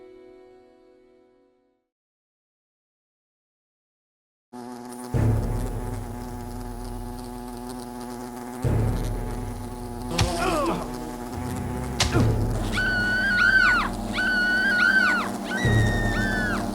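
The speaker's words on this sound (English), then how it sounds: "Strike down the wasps." Wasps buzz in the video game Fable Anniversary, a steady droning swarm over game music, with swooping whistle-like calls and a few thumps appearing after a brief silent gap.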